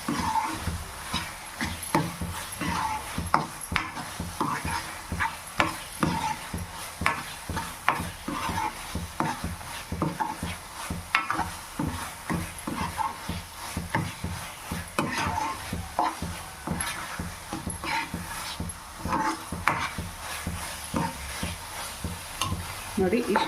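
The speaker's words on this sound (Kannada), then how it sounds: "ಚೆನ್ನಾಗಿ ಮಿಕ್ಸ್ ಮಾಡ್ಕೊತೀನಿ." A spoon stirs mashed sweet potato halwa with ghee in a pan, giving continuous scraping and soft sizzling at a steady rhythm, close and fairly quiet throughout.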